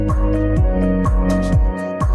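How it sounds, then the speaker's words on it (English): Drone motor driven by an ESC during throttle calibration, on an APM 2.8 DIY build, emits loud, steady electronic tones that repeatedly sweep downward, with several beeps running back to back and no talk. "then you will hear few beeps for around 5 seconds, and then your ESC and this ESC and the motor is calibrated"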